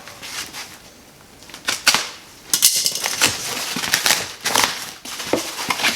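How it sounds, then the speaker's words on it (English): Sharp crinkling and tearing of packaging as a shipment of excavator gear parts is unwrapped, in irregular loud bursts close by with brief pauses. "So, unwrap this the rest of the way."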